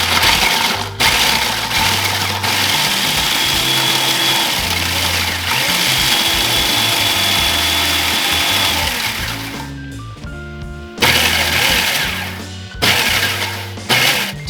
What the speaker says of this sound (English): 12 whole graham crackers put into my food processor here, and what I'm going to do is just pulse these until they are crumbs,